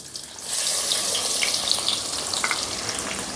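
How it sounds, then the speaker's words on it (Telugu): Sliced onions dropped into hot oil with cardamom, cinnamon and cloves, a loud bright sizzling hiss rising after a brief quieter start and holding steady. "ఇప్పుడు దీంట్లో రెండు యాలకులు కొద్దిగా దాల్చిన చెక్క నాలుగు లవంగాలు వేసేసుకుందాం ఇవి వేసిన వెంటనే సన్నగా తరిగిన ఈ ఉల్లిపాయ ముక్కల్ని కూడా వేసుకుందాం"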